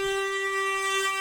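Loud, sustained horn blast from the bus carrying the national champion Baja team, a steady bright tone held through the whole moment, close and unbroken.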